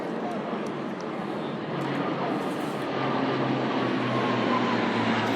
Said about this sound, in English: Massive aircraft. Does the heavy lift on operations.